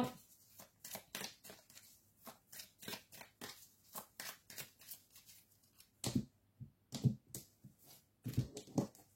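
Oracle cards are shuffled and drawn from a deck in a series of soft, quick papery flicks and slides, close and quiet, some strokes sharper than others.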